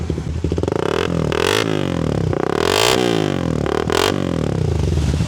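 A VMAX V25 motorcycle's exhaust is revved repeatedly during a roadside soundcheck on a rainy ride, with loud, close engine blips that rise and fall in pitch over a steady idle.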